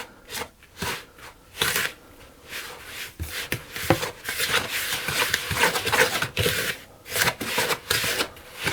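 Hands rub butter into flour in a bowl, making a steady, close, dry rustling and crumbling patter that swells and fades in uneven strokes without pause.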